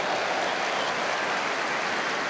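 Football stadium crowd applauding at an FA Cup quarter-final between Chelsea and Port Vale, a broad, even roar of distant clapping and crowd noise that fills the whole moment without letup.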